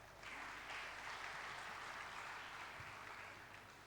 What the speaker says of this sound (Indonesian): Mari kita beri tepuk tangan yang meriah untuk mereka